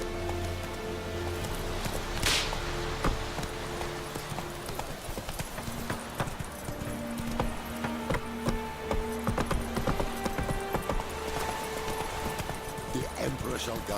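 Roach the horse walks in The Witcher 3, with steady, close hoof clip-clops that continue throughout. Rain patters lightly, and a voice speaks over the hoofbeats.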